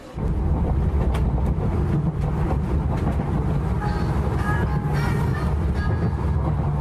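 A passenger train rolls toward Seoul Station, its final stop, with a loud, steady rumble that never lets up, and faint higher tones drift through the noise.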